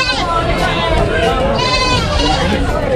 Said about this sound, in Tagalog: Ayun, ang dami ng kambing.